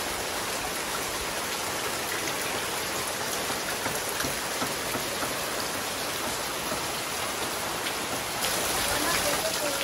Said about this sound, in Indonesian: hujannya ini lumayan cukup deras